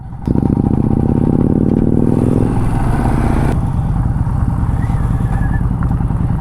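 Motorcycles ride through dense forest along a riverbank in Maharashtra, a loud, close engine drone with a rising rev that settles into a steady rumble and rattling clatter.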